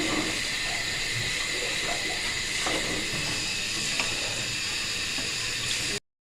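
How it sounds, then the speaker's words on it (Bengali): Chickpeas and onions fry in a pan with a continuous bright hiss and faint clicks and rattles throughout, close and fairly loud, ending abruptly; no talking. "ছোলা বুটটা ভাজবো বসাই দিয়েছি এই যে ছোলা বুট এটাকে ভেজে নিব"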